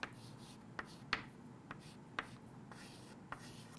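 A pen scratches out a shape during a chemistry lesson: a handful of short, crisp strokes and taps at irregular intervals, close and fairly quiet, with no talking.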